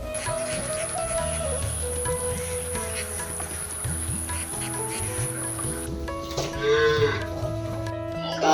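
Cattle on a backyard cow and duck farm in a Bangladeshi village moo in low, drawn-out calls, with a steady insect drone and background music running throughout.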